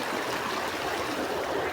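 Stream water rushes and burbles steadily around someone crossing on foot over rocks, a continuous close wash of flowing water with no voices.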